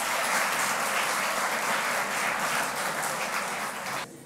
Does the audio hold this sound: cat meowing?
no